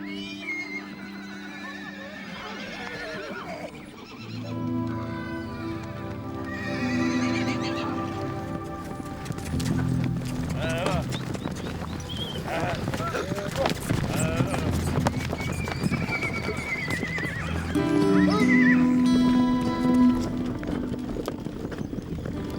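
Horses in the Amazonian marshes whinny loudly several times while hooves clop on hard ground, with a low rumbling backdrop and some voices mixed in.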